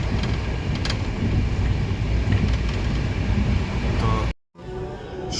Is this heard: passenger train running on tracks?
yes